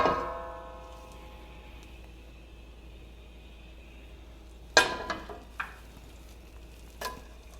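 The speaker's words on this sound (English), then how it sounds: "we'll cook our onions and then our garlic" Half a small onion cooking over medium heat in butter and olive oil in a pan, a soft steady sizzle with a few sharp clatters of stirring, no voices.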